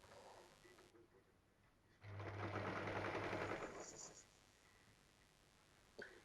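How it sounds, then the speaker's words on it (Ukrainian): A sewing machine runs a short burst of stitching on patchwork block pieces for a pink kitchen set, a quiet room tone that swells into about two seconds of steady close whirring, then fades back to near silence with a small click. "потім формую блок і потихеньку його шиваю один за одним, так як потребує вже схема"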